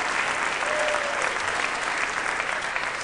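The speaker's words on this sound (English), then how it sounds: "Applause break." Steady applause from a comedy show audience, a broad wash of clapping that stays even and sustained throughout the short stretch.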